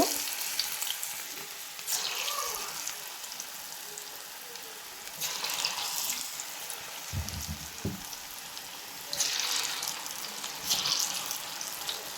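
Drumstick leaf batter fries in hot oil with a continuous crackling sizzle that surges louder in waves, plus a few close clatters, with no one talking.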